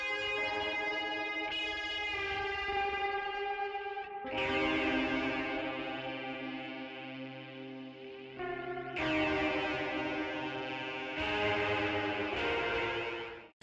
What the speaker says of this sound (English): second guitar with a different sound. This one's got, I think, octave fuzz, quite heavy chorus and a digital delay